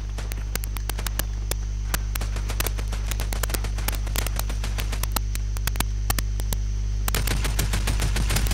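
Gunfire in the video game Fortnite, rapid sharp shots crackling in irregular bursts over a loud constant electrical hum, with the firing getting denser toward the end.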